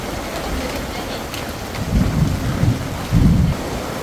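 Heavy rain during a thunderstorm in Puncak Alam, a dense steady hiss of downpour with two low rumbling thunder rolls swelling up in the second half, loud and close.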